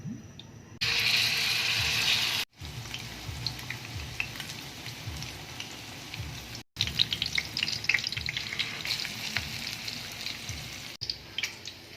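Fish patties fry in hot oil, giving a close, crackling sizzle. A louder hissing burst at the start gives way to steady popping, with a few short pauses where the sound cuts out.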